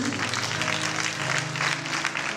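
A church congregation applauds at a wedding-themed service, with a brief dense burst of clapping and cheering voices in a reverberant hall.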